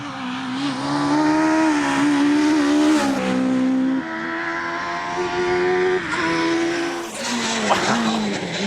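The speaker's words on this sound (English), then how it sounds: "Wow! Well, this car certainly sounds amazing." A racing car roars past at high speed, its engine note rising and falling through gear changes, with tires skidding and squealing; loud and continuous, no talking.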